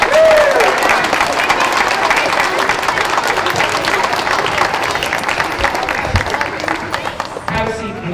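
An audience at an elementary school semester awards ceremony applauds the award recipients with loud, dense, sustained clapping that fills the whole stretch and tapers slightly near the end, with a voice briefly heard early on.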